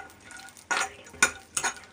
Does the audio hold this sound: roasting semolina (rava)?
yes